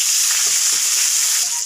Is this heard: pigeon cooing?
no